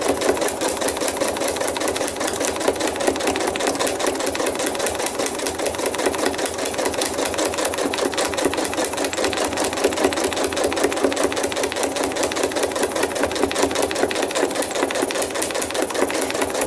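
A sewing machine stitching zigzag lines over thread art runs continuously at a steady fast rhythm, close and fairly loud, with a constant mechanical whirr and rapid needle chatter.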